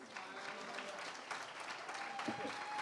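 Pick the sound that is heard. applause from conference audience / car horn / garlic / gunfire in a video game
applause from conference audience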